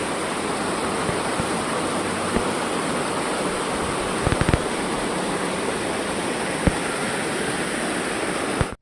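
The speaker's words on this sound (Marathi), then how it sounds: "आणि इथून हा खाली धबधबा तयार झालेला आहे" A waterfall roars in a constant broadband wash of rushing water, close and loud, with a few sharp clicks and knocks breaking through.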